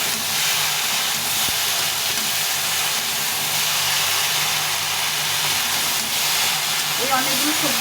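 Okra hisses and sizzles loudly and continuously in a hot frying pan, a dense, even crackle that holds for several seconds with a brief voice near the end.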